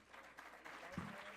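Seated audience clapping at an international accounting conference, a continuous even patter heard from some distance at low volume, with a bump from a nearby handling noise and some talk underneath.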